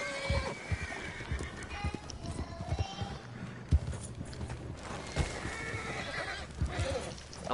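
A horse in the Western video game Red Dead Online whinnies and clip-clops while struggling to climb a hill, hooves thudding irregularly amid game ambience, with someone talking over much of it.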